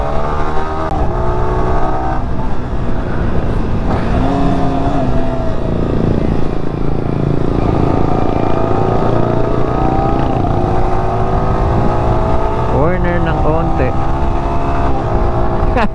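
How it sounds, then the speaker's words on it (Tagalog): A 2022 Yamaha R15M motorcycle with a quick shifter accelerates hard while overtaking on the road, its engine climbing in pitch through gears with quick shifts and no pause, loud and close over wind noise, with a rider talking over it. "Try nga natin kung makapag-overtake tayo ng maayos dito."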